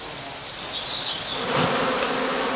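Honey bees buzz continuously around heather skeps in a heathland apiary, a dense, steady swarm hum that swells slightly toward the end.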